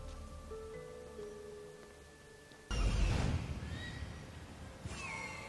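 A horse in Assassin's Creed Odyssey gives a sudden loud whinny that bursts in over a quiet rain-like ambience and tails off, with a second shorter cry near the end.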